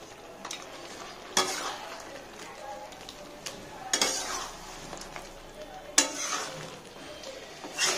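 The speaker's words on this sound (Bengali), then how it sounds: "এটাকে আমরা হালকা করে নাড়বো, বেশি নাড়বো না" A utensil stirs fried potatoes gently into mutton curry in a pan, making a soft sizzle with a few distinct metal scrapes and knocks. Quiet talking runs underneath.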